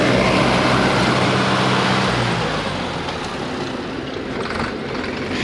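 A Sonalika 750 tractor engine runs in low gear with a loud, dense, steady roar that eases slightly partway through, close and continuous with no talk.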